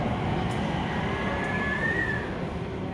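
A train pulls out of London Paddington's main-line station, bound for Heathrow, with a steady, loud rolling rumble and a faint whine that rises and fades.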